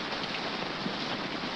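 Steady heavy rain pours in a 1951 Western film scene, a dense, unbroken hiss of falling water at constant loudness with no voices.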